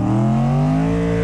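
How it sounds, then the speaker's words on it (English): A modified truck's engine revs hard during a burnout with nitrous, its steady harmonic whine sliding slightly as the RPMs shift. It is loud, close and continuous with no talking. "right here, you can hear the RPMs drop"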